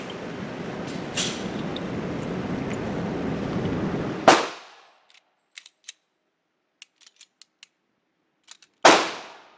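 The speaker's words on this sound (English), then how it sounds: "she put 10 more rounds into a new target" A Glock pistol fires rounds at a target, with two sharp, loud shots standing out, each followed by a short fade, and a few faint clicks in between after steady broadband noise.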